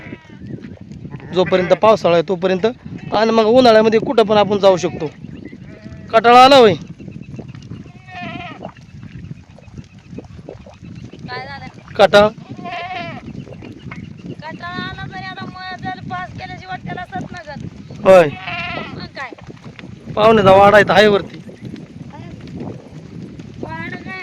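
Goats bleat loudly in repeated bursts, several wavering cries spaced through a noisy outdoor scene with people talking in between, as a herding family walks its flock on a long journey in rural Maharashtra.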